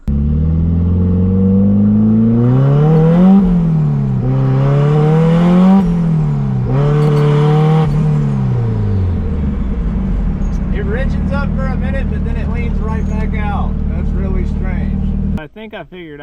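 A turbo K-swapped Toyota MR2 Spyder engine revs hard in repeated pulls, rising and falling three times before settling into a rough, busy idle, loud and close, cutting off abruptly near the end.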